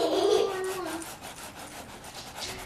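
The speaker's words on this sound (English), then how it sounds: "You just keep rubbing until you get the pulp off." Fingers rubbing soft paper pulp off an image transfer, a close, continuous scrubbing rasp with a brief tonal squeak at the start, steady and unaccompanied by speech.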